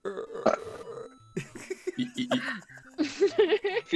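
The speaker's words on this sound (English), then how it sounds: "You had a gift of just making just the burps like legitimately" Several gurgling, drawn-out burps come in bursts, loud and close, with chuckling mixed in between them.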